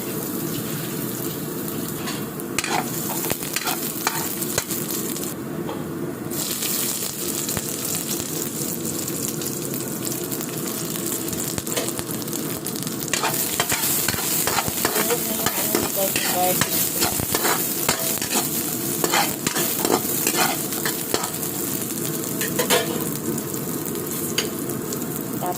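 Garlic frying in a pan with steady sizzling that runs throughout, along with continuous stirring and scraping and a watery, splashy background.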